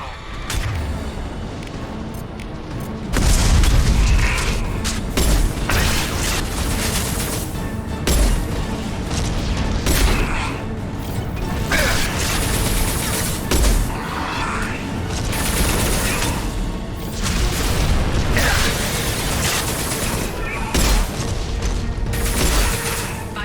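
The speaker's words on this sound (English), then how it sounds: "Firing anti-ship batteries at collector vessel." Anti-ship batteries firing at a Collector vessel in Mass Effect 2, with loud, repeated heavy booms and artillery-like blasts over a dense rumbling battle din, mixed with a synthetic voice speaking.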